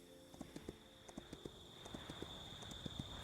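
A tired horse walking in the video game Kingdom Two Crowns: Shogun, its hooves making a soft, regular clip-clop over a steady ambient game tone, with no talking.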